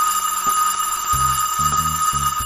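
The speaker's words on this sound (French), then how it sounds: "La sonnerie retentit enfin," A school bell rings at the end of the school day on Halloween, a steady electric ringing that holds for the whole stretch, with soft low thuds pulsing underneath.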